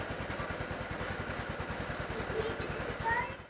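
An early-generation Honda Vario 125 scooter engine idles up close, a steady rapid putter with an even pulsing rhythm that swells slightly near the end.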